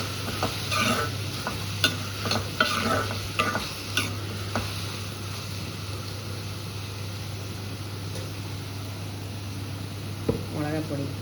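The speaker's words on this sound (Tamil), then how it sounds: "நல்லா வதங்கட்டும்." Chopped food with salt sautés in a pan for a home lunch dish, with a steady sizzle and a series of close scraping stirs early on over a constant low hum, while a voice talks.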